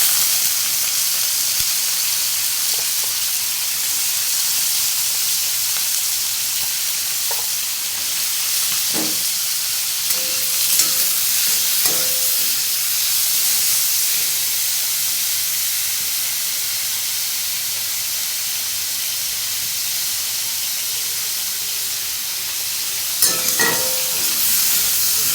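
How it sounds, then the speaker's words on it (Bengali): Chopped onion, garlic and green chili frying in hot oil for a Bengali rui fish curry, a steady bright sizzle and hiss lasting throughout, with a few soft clinks and stirring scrapes. "তেল গরম হয়ে গেছে, এখন এর মধ্যে দিয়ে দিচ্ছি পেঁয়াজ,"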